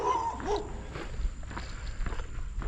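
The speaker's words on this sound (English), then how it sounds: "It's barking like crazy, but it's just a black lab." A black Labrador barks and whimpers at mid distance with footsteps and shuffling nearby, in a workshop space where heavy iron and steel equipment is being set on an uneven floor.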